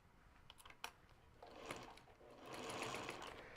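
Sewing machine stitching a long-stitch seam close to the fabric edge on a quilt-as-you-go project bag, starting with a few clicks and short bursts, then a steady whirring run of stitching, fairly quiet and close.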